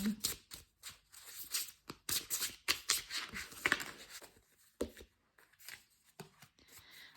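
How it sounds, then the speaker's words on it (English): Tarot cards from several different decks are shuffled by hand, giving a run of quick papery riffles and soft slaps close by, with short pauses between bursts. "Shuffle a couple more cards from some different decks."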